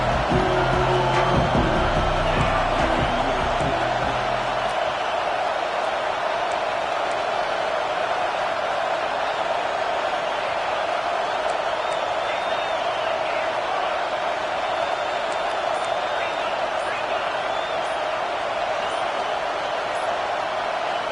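Stadium crowd at a college football game roars as a steady, loud, continuous wash of cheering and noise throughout, with heavier rumble at the start.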